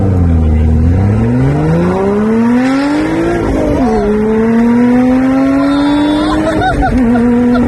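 A Lotus Evora accelerates hard, its engine note climbing steadily through the gears with brief dips at the shifts. The sound is loud and close, with people talking over it.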